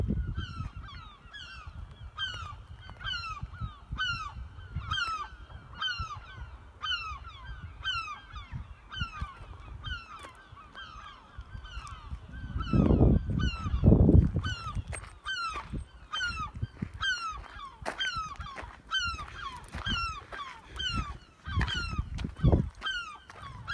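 Seagulls on the East Sussex coast, stirred up by a drone overhead, call in a rapid, insistent, repeating series throughout, with occasional low rumbling gusts underneath.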